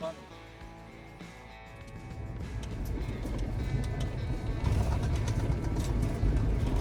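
A Jeep engine idles after restarting in the Mojave desert, a low steady rumble that builds slightly louder and stays constant throughout, close by.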